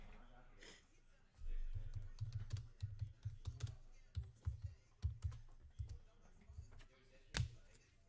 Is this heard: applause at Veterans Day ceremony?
no